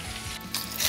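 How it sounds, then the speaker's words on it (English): Beef sizzling in hot cooking oil with chopped garlic and ginger, a steady hissing fry with a rising crackle, brief and moderately quiet. "add 2 tablespoons of cooking oil and add chopped garlic and ginger. Then add the beef."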